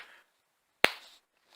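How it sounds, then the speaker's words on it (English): A single sharp hand clap, close and crisp, set in an otherwise quiet room, with faint room noise just before and after. "It's a hand clap."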